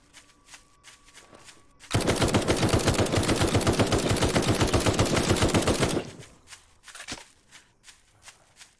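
Rapid automatic gunfire blasts continuously for about four seconds in the survival game Night of the Dead, loud and steady, then stops, leaving scattered softer clicks and footstep-like sounds.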